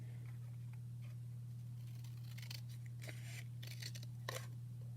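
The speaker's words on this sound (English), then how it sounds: "we're going to take our scissors and start at one corner and cut up to the" Scissors snip through paper while cutting out a triangle shape, a series of quiet crisp cuts clustered together over a steady low electrical hum, with no talking.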